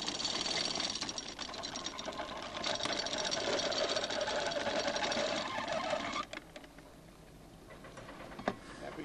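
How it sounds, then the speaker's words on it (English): Anchor chain pays out from a ship's windlass under brake control, a loud, dense, continuous clattering rattle for about six seconds that suddenly stops, followed by a few scattered clanks. "lets go of the anchor, and controls the paying out of the anchor chain using the brake"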